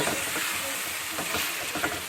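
Chicken pieces frying with ginger and garlic in a pan, a steady hissing sizzle with soft stirring scrapes, close and even, no voices over it.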